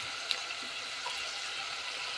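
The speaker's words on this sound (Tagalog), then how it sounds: "lagyan na natin ng tubig" Water pours steadily into a cooking pan holding boneless chicken frying in oil, a continuous broadband splash and hiss at moderate level from start to finish, with no voices.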